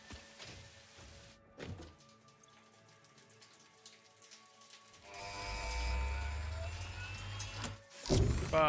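Rain falls in the video game Satisfactory as a steady hiss and patter of drops, rising to a broad, louder wash partway through over quiet game ambience and tones.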